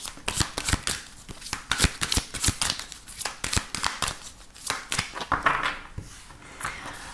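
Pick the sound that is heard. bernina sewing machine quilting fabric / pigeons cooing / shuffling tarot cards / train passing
shuffling tarot cards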